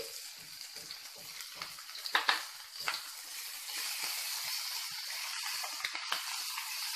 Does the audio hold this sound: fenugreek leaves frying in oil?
yes